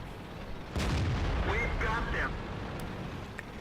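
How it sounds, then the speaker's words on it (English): An artillery shell strikes a tier X FV4202 medium tank in the World of Tanks video game, a single deep boom followed by a sustained rumbling roar, with someone talking over it. "I got hit by artillery right there"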